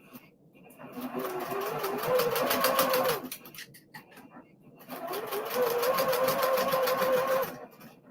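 A sewing machine runs close by in two steady bursts of about two seconds each, with a short pause between them, its fast needle rattle droning evenly while working on a Hello Kitty project.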